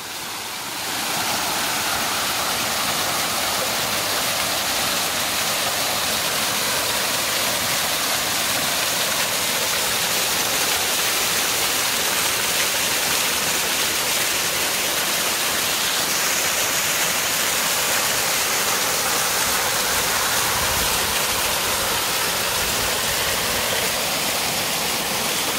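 Flowing water at a bathing spot in Luiz Alves, Santa Catarina, Brazil, makes a loud, steady broadband rush that runs unbroken for the whole stretch, with no voices over it.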